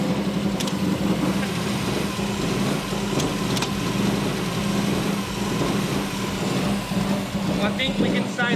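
A Subaru WRX engine runs steadily at idle with a rough, busy note, an occasional sharp click and popping from flames in the intake manifold. Someone talks over it.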